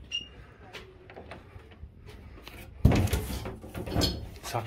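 A door in an abandoned villa is forced open with a sharp thud followed by rattling and scraping, close and loud, after quieter shuffling.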